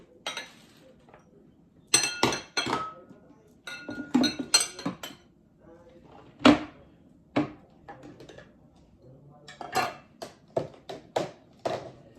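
Metal utensils clink against a container while juice is being mixed, quick bursts of sharp clinks and taps in irregular rhythm, close and clear, with quiet pauses between bursts.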